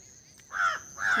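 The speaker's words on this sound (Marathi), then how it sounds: "कावळे आहेत कोण पाहुणे येतात" Two harsh crow caws in quick succession, fairly close and loud, with no speech.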